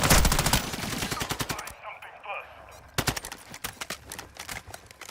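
Rapid automatic gunfire from a Call of Duty: Modern Warfare II match rattles loud and dense at the start, fades briefly, then resumes in sharper, scattered bursts toward the end.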